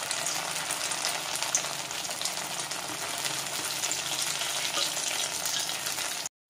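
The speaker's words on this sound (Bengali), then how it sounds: "তো চলো এগুলোকে আগে এখন ভেজে নিই।" Hand-pressed balls of mashed chhana fry in hot oil, giving a continuous bright sizzle and crackle close by, steady throughout before cutting off abruptly at the end.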